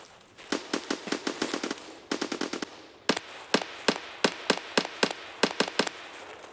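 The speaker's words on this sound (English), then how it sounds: "Sounds like a full auto weapon. So much shooting." Full-auto weapon fire in the video game Escape from Tarkov comes in rapid, evenly spaced bursts of sharp shots, some bursts longer than others, moderately loud with no talk.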